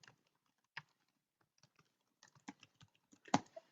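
Keystrokes on a computer keyboard as a website address is typed, sparse at first then quicker clusters of close, light clicks in a quiet room.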